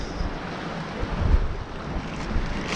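Steady wind buffets the microphone on a Galveston beach, a continuous low rumble with faint surf beneath it and no voices.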